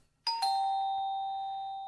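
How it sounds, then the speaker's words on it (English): A two-tone ding-dong doorbell chime rings out clearly on its own, each tone lingering in a long, slowly fading sustain. "There's a doorbell ringing"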